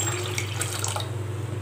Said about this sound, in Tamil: இப்போ தண்ணி வேணும்னா நம்ம கொஞ்சம் ஆட் பண்ணிக்கலாம்.